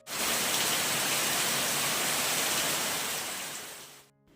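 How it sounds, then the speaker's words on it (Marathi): Steady, dense roar of heavy rain pouring down, constant and loud throughout, ending abruptly. "जोरदार पाऊस सुरू झालेला आहे म्हणजे एक प्रकारे मी म्हणेन की मुसळधार पाऊस"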